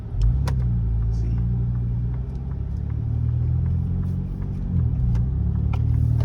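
A Ford Raptor pickup with a 3.0-litre turbo V6 drives along, a steady low engine and road rumble heard from inside the cabin with small clicks and knocks.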